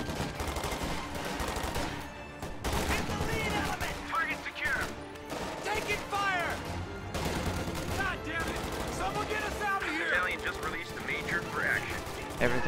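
Machine gun fire crackles through a real-time strategy battle as a fighting position suppresses advancing troops, dense bursts mixed with other combat noise throughout, under continuous talk.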